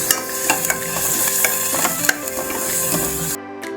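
Masala with ginger-garlic paste, cardamom and tomato puree, for a spicy Kolhapuri tambda rassa, sizzles in a pan while being stirred, the spoon's scrapes and taps rising in loud irregular bursts over a continuous fry hiss, nobody speaking.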